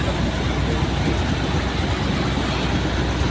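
A brand-new boat engine runs through its break-in period, giving a steady, loud mechanical drone with constant broad noise and no pauses.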